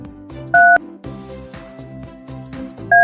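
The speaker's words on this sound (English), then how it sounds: "press the numbers on the phone to call him" Electronic phone keypad tones beeping as a number is dialed in a children's Topsy and Tim story, two short loud beeps standing out over a bouncy background music track.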